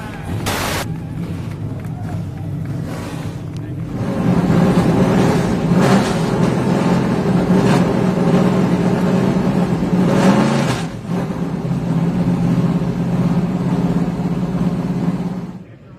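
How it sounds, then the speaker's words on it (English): TA2 race car engines at Sebring fire up and rev together in a loud, sustained roar that swells and eases a few times, with a brief sharp burst near the start. "Drivers, start your engines."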